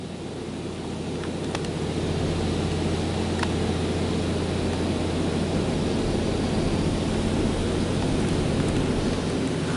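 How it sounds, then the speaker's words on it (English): A poorly maintained PDQ Laserwash 4000 car wash system gives a steady, loud mechanical buzz and roar without pause, like a large machine or blower running close by. "that buzzing sound is coming from the system itself."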